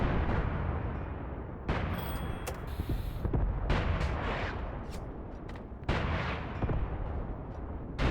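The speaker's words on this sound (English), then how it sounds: "Here's our 45mm guns, still firing at the Paks, right through the brush." 45mm anti-tank guns fire at Paks in the Graviteam tactical war game, sharp reports with sudden onsets near 1.7, 3.7 and 5.9 seconds ringing out over a dense, rumbling battlefield din.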